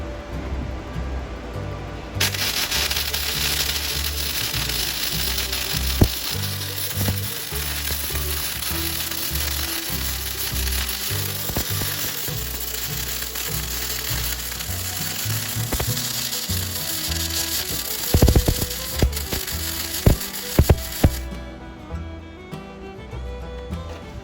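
A flux core wire welder drags a bead on steel roof rack parts for a Suburban, a steady close sizzling crackle that runs about twenty seconds before stopping, followed by a few sharp clanks.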